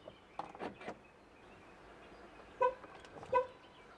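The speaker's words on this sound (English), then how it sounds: "it should also make some noise or sound from the horn" A 2009 Chevy Suburban's horn gives two short, quiet chirps about a second apart as its tire pressure monitoring system enters relearn mode, after a few faint, indistinct background sounds.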